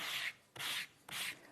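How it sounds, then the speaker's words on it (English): A sanding block rubs across a delicate pale pink card in three firm, evenly spaced scratchy passes, each strokes lasting about a third of a second, close and clear with no talking. "And with my sanding block,"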